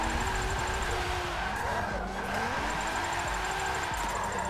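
A Nissan 300ZX drifts in a Forza race, its engine droning steadily while tires squeal and skid in wavering pitch throughout, with a constant loud roar and no pause.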